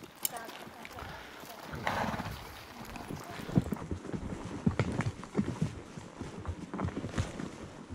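Horses walking along a forest trail in Charlevoix, irregular hoof thuds and rustling under a person talking, with faint wind in the background.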